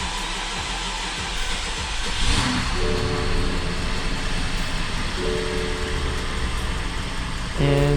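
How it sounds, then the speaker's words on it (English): A BMW 550i that had been sitting non-running has its engine started after new spark plugs go in and the fuel pump fuse is reconnected. It runs roughly with a steady, rumbling idle, and brief starter-like cranking surges come and go. "And yes, the engine runs."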